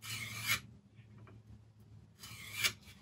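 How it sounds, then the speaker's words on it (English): A woodturning tool edge rubbed gently over a diamond card, two short dry rasping strokes close by, separated by a quiet pause. "just by sliding it nice and gently over a diamond card or a sharpening stone"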